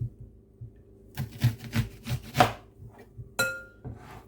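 A knife cuts an onion in half on a board, making a few soft chopping and scraping knocks against a quiet room background, with a metallic clink near the end.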